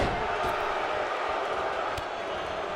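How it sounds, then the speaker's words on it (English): Crowd noise in the WWE 2K22 wrestling video game: a dense, steady arena roar with booing, loud and continuous, with faint thuds from the ring underneath. "Crowd booing left and right"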